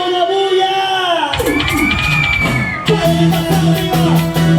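A festival crowd at an anniversary celebration shouts, whoops and cheers loudly and close, with overlapping voices and sharp yells rising in bursts over music.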